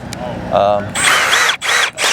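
A power drill whirs in several short bursts, loud and close, with brief pauses between runs and a faint voice just before, drilling screw holes on an RV slide topper.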